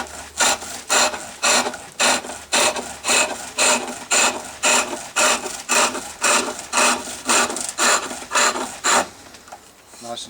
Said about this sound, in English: Now we get the smoothing chisel, flat chisel, and start smoothing off the wood